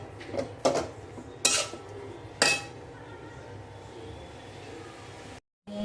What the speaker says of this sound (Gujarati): અને સરસ રીતે હલાવી દેવાનો છે.